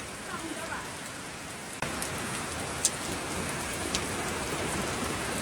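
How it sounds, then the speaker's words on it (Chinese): Steady rain falls in the countryside and runs off into a drainage ditch, making a continuous hiss and patter with a few sharper drips and splashes nearby, and no voices. "这下来雨水直接就奔这沟就下来了，奔这嘎达就往出淌。"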